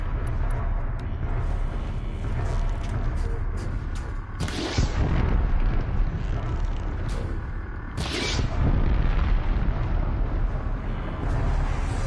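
Heavy launcher explosions in Horizon Zero Dawn battle against Eclipse troops and a Deathbringer, a continuous roaring barrage with two sharper, louder blasts standing out amid the rumble.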